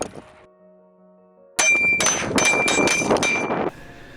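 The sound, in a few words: gunshots hitting a steel target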